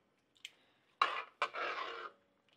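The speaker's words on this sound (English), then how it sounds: "Give this a stir." Spoon scraping and clinking against a pot while stirring shrimp and corn soup, in a few separate close bursts with a brief knock at the start and short pauses between.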